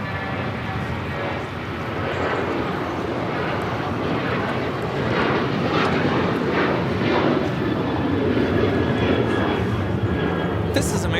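A jet airliner taking off from runway 25 right at Los Angeles International Airport: a continuous, loud, broad engine roar that holds steady and swells slightly, with voices talking over it.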